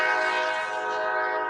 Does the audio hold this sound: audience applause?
no